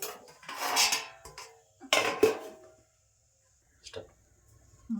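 Clattering of a pot and lid as drumstick and potato curry is stirred and covered, a few metallic clinks and scrapes in short bursts with quiet gaps between.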